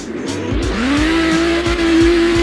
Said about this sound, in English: Yep, they flip and drift a lot.